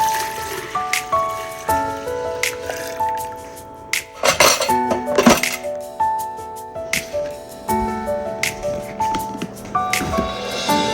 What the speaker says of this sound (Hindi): सबसे पहले तो मैं दूध शिफ्ट करती हूँ और चनों को बॉईल होने के लिए रखती हूँ